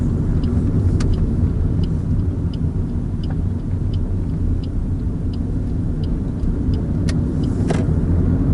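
Cars drive along a road as a continuous, fairly loud low rumble of traffic and tyre noise, with faint ticking sounds scattered through it and no talking.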